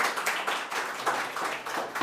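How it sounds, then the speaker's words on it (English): A masterclass audience claps for a speaker in a round of applause, a modest, uneven patter of hands that swells and dips in short waves, fairly close and without any talk. "So please give her a big round of applause"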